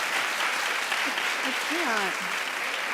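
Studio audience at a daytime talk show claps in a steady, even patter throughout, with someone talking over the applause.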